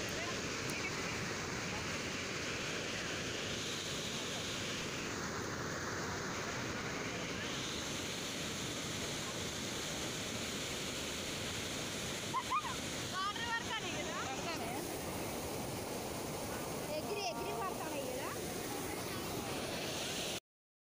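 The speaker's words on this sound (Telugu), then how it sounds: "ఫోర్ గేట్స్ తెచ్చారు చాలా బాగా ఫ్లోట్ అవుతున్నాయి వాటరు" Water surging through four opened gates of the Kaleshwaram irrigation project dam, a steady loud broadband roar with wind buffeting throughout and brief voices and clatter partway through.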